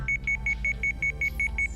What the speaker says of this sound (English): the alarm on my bracelet suddenly began to ring